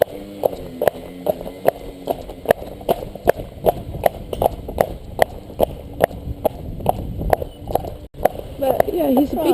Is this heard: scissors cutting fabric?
no